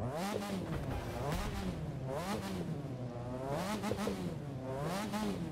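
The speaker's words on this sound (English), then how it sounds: "We're just gonna go in neutral here, rev the engine." A car engine in The Crew 2 revved repeatedly in neutral, rising and falling in four or five steady swells with loud, clear tone and no voices over it.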